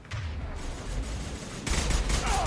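Dense gunfire from a Mass Effect 2 firefight, with rapid overlapping shots and bursts that swell louder toward the end, sustained and fairly close with no pauses.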